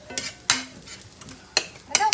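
Onions caramelizing in a pan, with soft sizzling under sharp stirring scrapes and utensil clatter that come in a few loud bursts.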